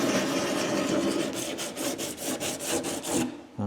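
Rhythmic back-and-forth scratching of 80 grit sandpaper on a curved sanding block rolling over a wooden edge, close and steady strokes that stop abruptly at the end.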